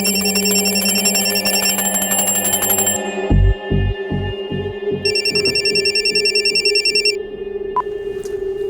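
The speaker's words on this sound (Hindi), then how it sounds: "अभी फोन की घंटी बजाने की क्या जरूरत थी?" A telephone bell rings loudly in a steady electronic trill, stops, then returns as a brighter repeated ringtone pattern alongside a low rhythmic pulsing, with no voices.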